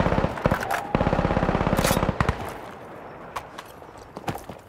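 Rapid automatic gunfire in the tactical shooter game Insurgency Sandstorm, a loud sustained burst of closely spaced shots followed by scattered single cracks and fainter distant fire.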